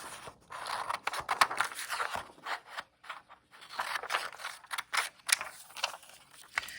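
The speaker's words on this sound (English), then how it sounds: "Use your other hand to hold your paper and then cut carefully on the lines to cut out each of these shapes." Scissors cutting paper shapes, a close series of irregular crisp snips and paper crunches with short pauses between cuts, heard alone without talk.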